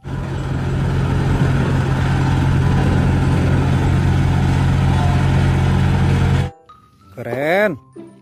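Big toy steamroller giving off a loud, steady engine rumble for about six and a half seconds, then cutting out abruptly, followed by a short burst of a voice.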